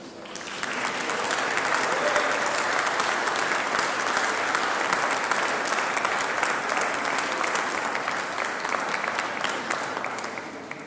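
Graduates at a university commencement ceremony applaud their family and friends: dense, sustained applause from a large crowd that holds steady for about eleven seconds before easing slightly at the end.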